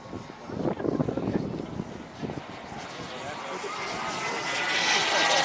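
A jet aircraft makes a slow flyby with a little flap at a jet flying event, its engine roar building into a broad, steady rushing hiss as it approaches, while a voice commentates over it.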